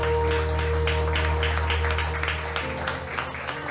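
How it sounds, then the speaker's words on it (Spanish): A church congregation claps together in a steady, dense burst of applause over sustained organ-like music, loud and close, gradually thinning toward the end. "Dale fuertes palmas al Señor."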